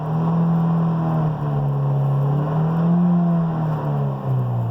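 A Ford Fiesta ST engine drones steadily at about 4,000 RPM with a smooth, artificial piped-in hum that rises and dips slightly, loud and close throughout.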